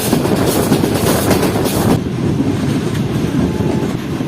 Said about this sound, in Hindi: ट्रेन ने ट्रैक्स चेंज कर लिए हैं और आगे बढ़ रही है फैसलाबाद रेलवे स्टेशन के प्लेटफॉर्म नंबर 3 की तरफ